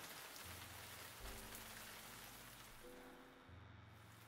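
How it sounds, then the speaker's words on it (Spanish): Steady rain patters and hisses on a surface, soft and even throughout, with a low hum shifting underneath. "Fuera está lloviendo."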